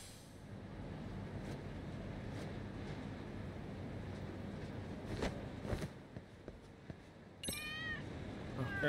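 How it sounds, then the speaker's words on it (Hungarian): A cat meows in the Lost Judgment video game: a few soft meows over a steady low ambient hum, then a clearer, rising meow near the end. "Ott egy cica."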